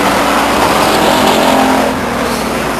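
Stock cars race at Stockton 99 Speedway, a loud, close engine roar sustained throughout as the pack drives down the front stretch, easing slightly toward the end.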